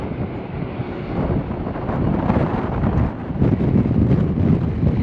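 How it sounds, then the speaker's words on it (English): Strong gusty wind buffets the microphone at the Port of Oakland, a continuous low roaring rumble with no voices. "And you can hear the wind. It's very windy today."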